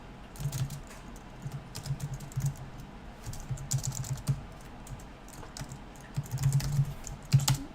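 Steady computer keyboard typing while coding, with bursts of rapid keystrokes broken by short pauses, close and clear and unaccompanied by speech.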